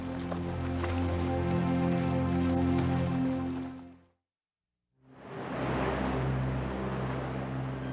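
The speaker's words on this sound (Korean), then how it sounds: "구조 작전의 현장, 나이아가라 폭포로 가보자." Niagara Falls roars as a loud, steady wash of rushing water, broken once by a short stretch of silence before the torrent returns at full strength.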